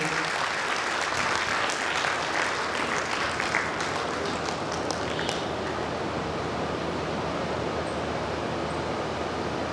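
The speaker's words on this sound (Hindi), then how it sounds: "जोरदार ताली इस बच्ची के लिए।" A crowd applauds to welcome a girl at an indoor event, a dense, steady wash of clapping that holds for about ten seconds without any clear talking.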